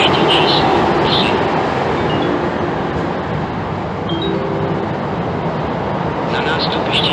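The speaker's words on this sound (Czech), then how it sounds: "Podél nástupiště číslo 3 projede vlak." A train runs along platform 3 at Pardubice main station, a steady broadband rumble and rattle that holds for the whole stretch, with faint platform ambience and brief high squeals over it.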